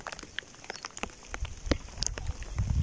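Rain pattering on surfaces during float fishing on a river, with scattered sharp drips and taps over a steady soft hiss that builds and grows denser toward the end.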